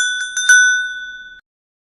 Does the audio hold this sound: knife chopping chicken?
no